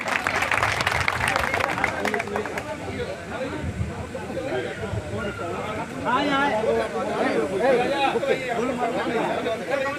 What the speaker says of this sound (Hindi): जोरदार ताली बजा के अपने प्रिय नेत्री का अभिवादन करें